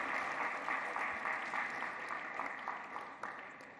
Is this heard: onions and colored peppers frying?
no